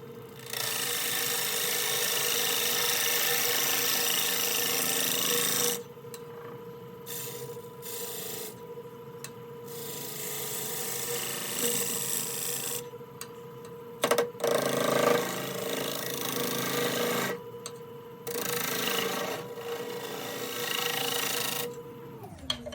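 Rough turning of an 11-inch by 3.5-inch Canadian ambrosia maple bowl blank on a wood lathe, the tool hollowing the inside with a steady broadband scraping rasp that stops and restarts several times, close and loud, no talk.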